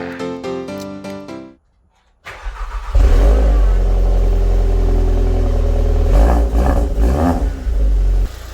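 Car with a Racingline R600 performance airbox and standard exhaust, heard first as a brief engine note, then silence, then the engine cranking and catching and revving loudly up close, with a couple of sharper throttle blips near the end.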